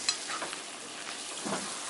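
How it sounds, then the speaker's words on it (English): Flour cooks into a roux for gravy in a pan for Salisbury steak with mushrooms, giving a soft, constant sizzle with light scraping as it is stirred, close and moderately quiet, with no talk. "So we're going to just have to cook it for just a minute, get the flour all incorporated in here."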